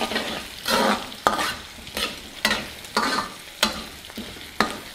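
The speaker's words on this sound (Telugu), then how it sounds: "ఒకసారి మొత్తాన్ని కలుపుకుందాం." Small potatoes frying in a pan are stirred with a utensil, producing a steady sizzle broken by about six sharp scrapes and clinks at a regular rhythm, close and clear with no talking.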